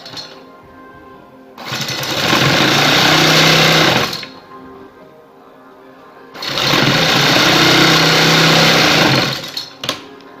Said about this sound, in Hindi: फिर आके हम इसको सिलाई लगाएंगे किनारे के ऊपर।